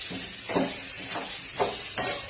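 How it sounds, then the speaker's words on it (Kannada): Bottle gourd and green chillies frying in oil, stirred with regular scraping strokes about every half second over a continuous close sizzle. "ಚೆನ್ನಾಗಿ ಎಣ್ಣೆ ಫ್ರೈ ಮಾಡ್ಕೋಬೇಕು"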